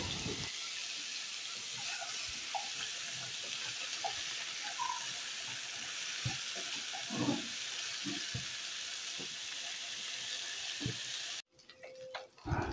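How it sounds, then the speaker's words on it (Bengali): Vegetables and potato frying in oil in a pan for pui shak chorchori, a soft, steady sizzle with occasional light clicks and stirring taps, fairly quiet and close, ending with a brief change in texture. "সবজিগুলোকে ভালো করে একটু ভেজে নেব"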